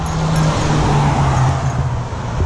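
Car traffic on a highway next to the trailhead of the Howe Sound Crest Trail, a loud, steady roar of vehicles passing close by throughout.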